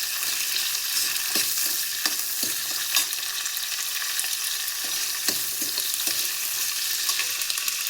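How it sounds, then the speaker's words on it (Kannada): Curry leaves, green chillies and onion sizzle steadily in a hot pan while a spoon scrapes and knocks against the metal in irregular stirring strokes, close and continuous. "ಇದಕ್ಕೆ ಕರಿಬೇವು ಸೊಪ್ಪು, ಹಸಿಮೆಣಸು ಮತ್ತು ಈರುಳ್ಳಿ ಚೆನ್ನಾಗಿ ಮಿಕ್ಸ್ ಮಾಡ್ಕೊಳ್ಳಿ."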